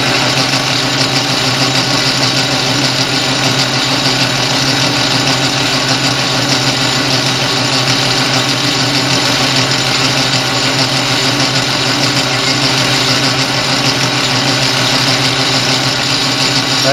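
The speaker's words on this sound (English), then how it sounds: "Center drill there, make sure we get started good." Metal lathe running steadily while center drilling a brass-or-steel propane burner part, a constant mechanical whir and hum with even tone throughout, close and fairly loud, no voices.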